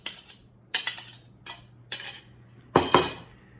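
Whisk or fork clattering against a bowl as three eggs are beaten with milk, coming in five short bursts of close, bright clinking.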